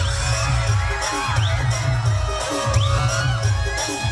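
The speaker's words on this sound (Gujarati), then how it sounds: "તાળીઓ જોરદાર થઈ જાય એકવાર." An audience at a school cultural event claps and cheers loudly and steadily, with children shouting, whooping and whistling through the crowd noise.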